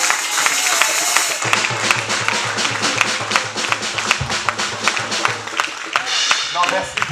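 A church congregation claps and cheers, with a steady rhythm of close hand claps under loud voices and shouting, plus a low hum running through the middle of the clip.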